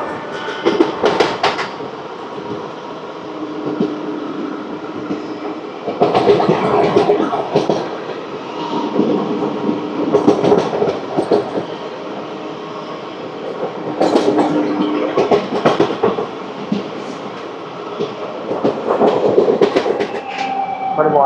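Pinakini Superfast Express running from Vijayawada to Chennai, heard from inside a carriage: a steady loud rumble and clatter of wheels on track throughout, with faint voices underneath.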